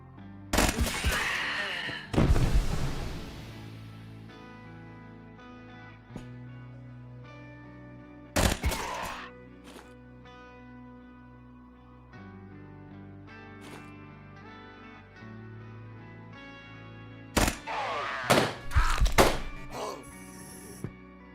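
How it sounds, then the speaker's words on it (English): Grenade explosion in the video game Quasimorph, one of several sharp booming blasts scattered over a sustained musical soundtrack, each hit sudden and loud before decaying back into the music. "That's a grenade."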